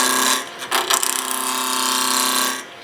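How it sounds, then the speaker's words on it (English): A turning tool cutting into wood on a lathe gives a steady, bright scraping whir with a rapid ratcheting chatter, briefly interrupted near the start before settling into an even, close, continuous cut that stops abruptly at the end. "I'm going to start raising the tool until it starts cutting"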